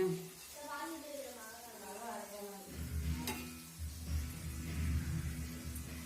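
Potatoes being stirred and fried in a pan, with a steady sizzle and scraping that swells after someone speaks over the start, continuing loud and close.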